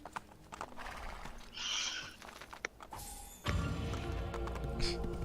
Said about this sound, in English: Oh, there's another horse here. New horse.